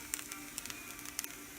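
Large pieces of lion's mane mushroom sizzling in a pan on a slightly uneven cooking surface: a faint, steady hiss dotted with small, scattered crackles and pops.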